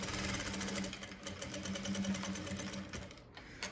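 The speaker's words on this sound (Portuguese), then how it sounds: "E agora, eu vou costurar." A sewing machine stitching a cotton dish towel, running in a steady, fast mechanical chatter at moderate volume with a low hum underneath for the whole stretch.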